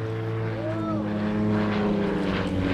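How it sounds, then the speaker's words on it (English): SA180 Twister light aircraft with an 80-horsepower propeller engine performing a solo airshow display at East Fortune in 2009: a steady droning engine hum with gently rising and falling pitch as it passes at moderate distance. "This aircraft can cruise at 140 knots on 80 horsepower."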